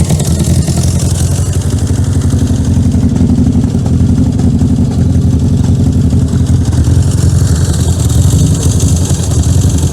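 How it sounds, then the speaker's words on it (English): A steady idling engine of an old British car, unstarted for 25 years, rumbles loudly and continuously, with a fine rapid hydraulic tappet ticking running through the mechanical drone; the exhaust has a hole punched in it. "That's tappet noise."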